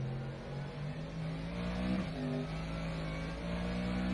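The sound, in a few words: Mercedes AMG GT3 braking at Silverstone in rFactor 2 video game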